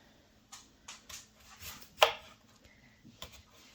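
A knife slicing through roasted sweet potato on a cutting board, a handful of soft separate cuts and taps spaced through a quiet kitchen, one sharper chop standing out midway.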